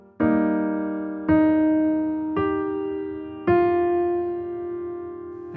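Piano playing the third chord of a piece with its melody notes, four separate struck chords at a slow even pace, each ringing and decaying before the next, close and clear with no voices.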